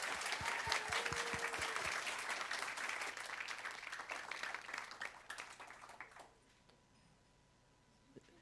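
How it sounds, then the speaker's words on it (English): Audience applause at a comic convention panel, dense clapping from a crowd that gradually thins and fades out, leaving quiet room tone with a faint thump near the end. "Can you give them a round of applause, please?"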